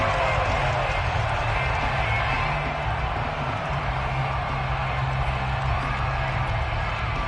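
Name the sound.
crowd shouting in Madden video game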